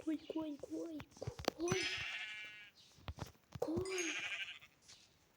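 Sheep bleat several times, wavering calls close by, mixed with other livestock cries and short bursts of background noise.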